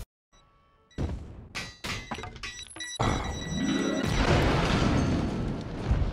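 Scattered crashes and thumps build into a sustained, roaring blast of noise that rumbles loudly until the end.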